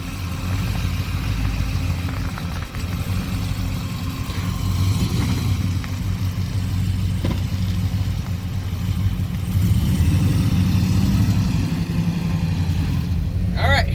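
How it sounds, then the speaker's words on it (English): A Chevrolet Chevelle hot rod runs with a continuous deep engine rumble on a test drive, steady and loud throughout, with slight swells as it pulls along. "Test driving the Chevelle."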